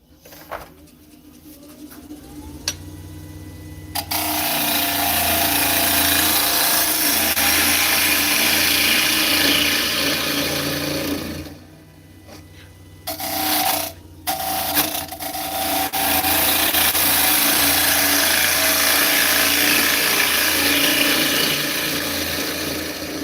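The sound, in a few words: wood lathe turning and cutting elm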